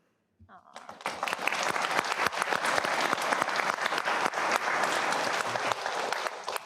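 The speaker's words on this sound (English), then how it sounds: "you probably can't get enough round of applause" Applause breaks out at a school district board workshop, starting abruptly after a brief quiet moment and building into steady, dense clapping from a room full of people, with voices faintly underneath.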